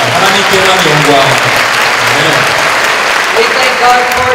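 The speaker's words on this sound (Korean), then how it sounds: "하나님 앞에 영광의 박수 올려드리겠습니다." A church congregation at an evening mission camp service claps loudly in a dense, continuous burst, with some voices audible beneath the applause.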